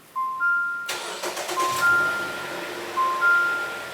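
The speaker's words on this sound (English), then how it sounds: "Shut the ignition off and then turn the vehicle on." A 2.4L Jeep Renegade starts up: dashboard chimes beep, then the engine cranks briefly and catches into a steady idle, heard up close with more chimes sounding over it.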